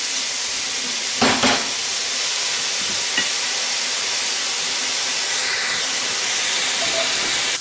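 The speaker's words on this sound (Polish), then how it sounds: "I będziemy smażyć 10 minut, często mieszając." Chanterelle mushrooms seasoned with salt and pepper fry in a pan with a steady, close hiss and sizzle, broken by a few scraping stirs.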